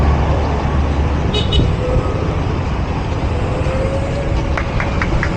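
Busy city street traffic in Marikina as heard from a bicycle, steady close engine rumble with a couple of short horn toots and later a quick series of honks.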